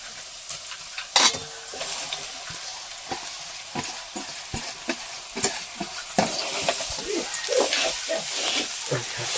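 Squeezed bamboo shoots fry with onion in a pan, with a steady sizzle under repeated scraping and stirring strokes. One sharper clatter comes early, and the frying grows a little louder toward the end.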